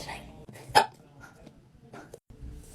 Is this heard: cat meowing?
no